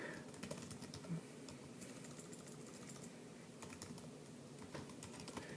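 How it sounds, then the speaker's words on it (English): Computer keyboard keys tapped in quick, irregular bursts while entering a web address, soft and steady clicking over a low room hum with no voices. "I can actually type in whatever I want it to go to"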